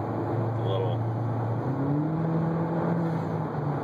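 A Chevy Cruze engine hums steadily with a rising rev partway through, running continuously at close range.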